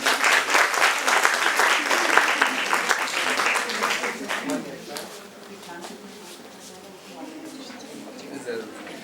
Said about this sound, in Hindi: Please give a huge round of applause.